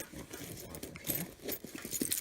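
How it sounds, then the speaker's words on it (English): Keys jangle softly inside a woman's purse, rummaged alongside other carried items, giving a faint, continuous metallic clinking and rustling at close range, with no talking. "I keep my keys in here"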